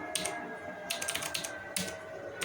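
Typing a password on a computer keyboard, several quick bursts of close key clicks separated by short pauses, over a faint steady background hum.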